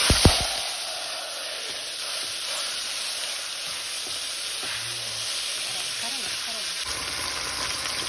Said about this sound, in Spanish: como ven acá la carne se está dorando